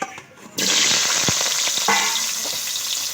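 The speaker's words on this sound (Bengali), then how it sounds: "আমি আলুগুলো প্রথমে ভেজে নেব।" Potatoes drop into hot mustard oil in a wok with a sudden loud burst of sizzling, which then settles into a strong, steady hiss of frying.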